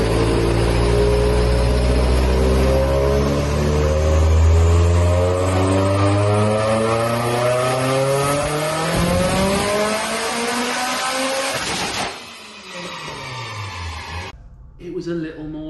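A turbocharged car engine on a dyno revs hard and loud, its pitch sweeping up repeatedly for about twelve seconds before cutting off abruptly, with a quieter tail and talk-like sound mixed in.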